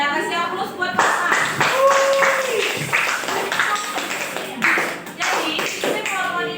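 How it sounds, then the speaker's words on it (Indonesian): A classroom group applauds a student, a burst of hand clapping running throughout at moderate loudness with a teacher's voice and chatter mixed in over it. "Nah, kasih aplaus buat Fatma."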